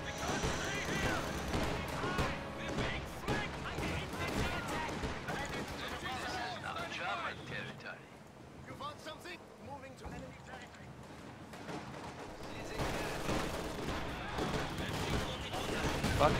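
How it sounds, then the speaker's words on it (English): MG42 machine gun in Company of Heroes 2 battle, bursts of rapid gunfire and explosions mixed with battle noise, partly under people talking over the action. "Fucking MG42, man"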